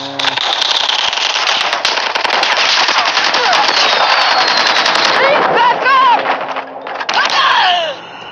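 Rapid automatic fire from an LK24 rifle with American flag camo in Call of Duty Mobile, its shots bursting as fireworks with crackling pops and whistles, loud and continuous for several seconds with faint voices underneath.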